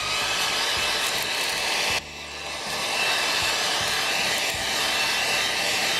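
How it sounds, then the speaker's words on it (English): Heat gun set on low blowing over a Black Forest cuckoo clock movement to dry off lighter fluid, a loud steady airy whoosh, close up, with a brief dip and change in tone as it shifts partway through. "I'll go and get a heat gun and we'll dry off the last little bit of lighter fluid that's still on the movement."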